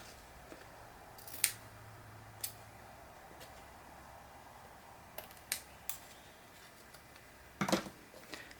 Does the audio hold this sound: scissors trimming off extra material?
yes